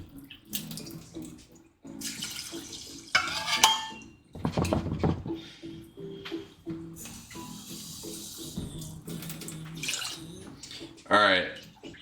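Water poured into a pot of rice, with splashing bursts, trickles and clinks of the pot between pours. Pouring stops and starts several times, close and moderately loud, with people talking faintly underneath.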